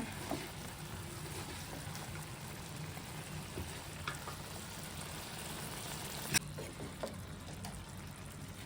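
Bakas fish pieces coated in spices cook in a pan while being stirred, giving a faint, steady sizzle with occasional soft clicks and scrapes of the spoon, no voices.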